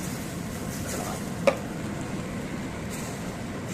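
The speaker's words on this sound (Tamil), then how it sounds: "தக்காளி அப்படி அரைச்சி ஊற்றிக்கோங்க." Blended tomato is poured into sizzling masala in a pan, producing a steady, close frying hiss with one brief clink partway through.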